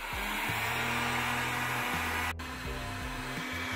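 Handheld hair dryer blowing a steady, loud whooshing hum while heating plastic to melt it, with small shifts in pitch as it is moved; no speech.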